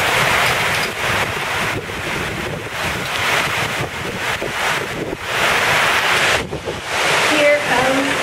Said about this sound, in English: That's the ocean out there, yes.